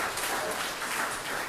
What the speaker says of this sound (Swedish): Ja, man får en applåd till